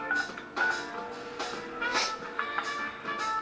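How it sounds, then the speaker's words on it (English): A cell phone dials in the Persona 4 Arena video game, a quick series of separate electronic key tones, clear and fairly soft with no voices over them. "I call up Yosuke on my cell"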